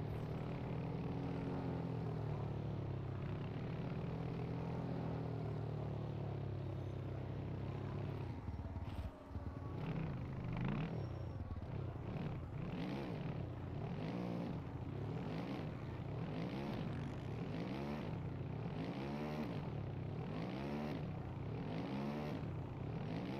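A motorcycle engine in a supercross video game, heard as a steady loud drone that turns into rhythmic, repeated revving swells as the bike accelerates and turns, with no other sounds over it.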